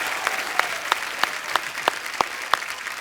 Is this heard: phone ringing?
no